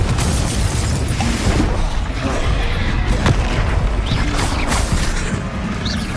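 Repeated Confringo blasting spells explode in Hogwarts Legacy combat, giving a dense, continuous barrage of booms and crashes with mechanical clatter, loud and close throughout.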